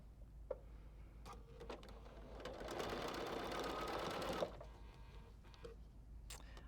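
A sewing machine stitches a seam on a quilt block. It runs in one steady mechanical whir of about two seconds, close and moderately loud, with faint handling clicks before and after. No one talks.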